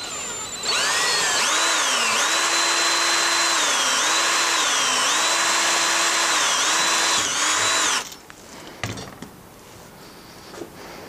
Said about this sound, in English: I will drill the hole